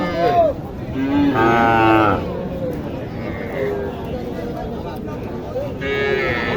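A Sahiwal cow at a cattle market in Naogaon moos loudly a few times, drawn-out calls close by, while people talk in the background.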